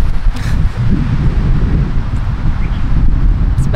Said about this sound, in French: Un beau petit vent le matin et tout.